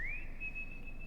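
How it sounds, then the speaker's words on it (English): A single sustained whistle, rising briefly at the start then holding a steady high pitch for about a second, calls a dog in the horror video game Lost in Vivo, alone with no talk. "Let's whistle for the dog"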